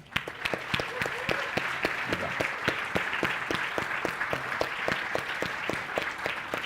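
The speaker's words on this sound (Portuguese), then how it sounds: "Uma salva de palmas para Gustavo e para Geraldo." An audience claps for two authors after a literary reading, with sharp individual claps standing out close by over a fuller spread of applause, steady throughout.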